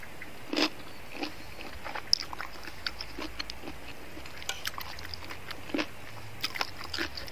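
Chewing on a spicy wing bean salad outdoors in the snow, with soft crunchy bites and mouth sounds coming in scattered bursts, close and fairly quiet.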